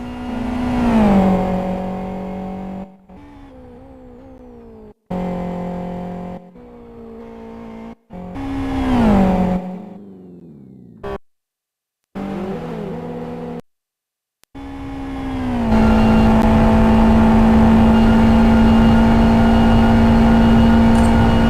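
A race car in a racing video game roars through repeated revving climbs, with sharp downshifts and engine drops under braking for a right-hand corner, then a steady high-pitched drone to the end.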